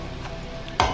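Bottle gourd peel frying with poppy seeds in a pan, a soft continuous sizzle that ends in one sharp, louder stirring scrape near the close.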